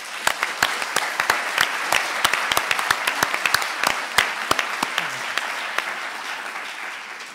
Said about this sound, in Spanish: Les pido un aplauso para Demetrio.